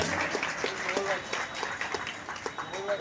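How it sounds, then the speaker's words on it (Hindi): Loud, sustained clapping from a crowd at a workers' union conference, a dense wash of hands with voices talking over it throughout. "जोरदार ताली मजदूर यूनियन की तरफ से"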